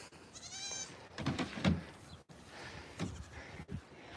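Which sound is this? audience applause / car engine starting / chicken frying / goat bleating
goat bleating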